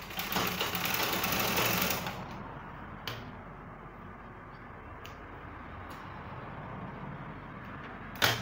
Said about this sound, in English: You top stitch thread on top.